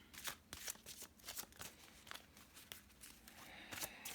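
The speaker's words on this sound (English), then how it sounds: "This is the Angel Tarot Cards deck by Doreen Virtue" An Angel Tarot Cards deck is shuffled by hand at close range, quiet bursts of riffling and sliding cards arriving in quick irregular flurries.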